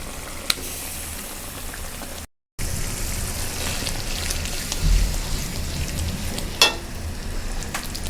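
Ground dried fish frying in a pan with spices, a close, steady crackling sizzle that drops out briefly and then resumes with a few sharp pops, no speech.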